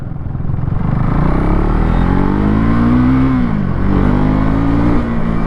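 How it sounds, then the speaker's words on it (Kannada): A 2024 Husqvarna Svartpilen 401 motorcycle engine revs loudly up close, its exhaust droning as the pitch rises, drops sharply and climbs again in a throttle blip, with no talking. "ಇಂಜಿನ್ ಸೌಂಡ್ ಈ ಥರ ಕೇಳಿಸುತ್ತೆ ಎಕ್ಸಾಸ್ಟ್ ಈ ಥರ ಕೇಳಿಸುತ್ತೆ"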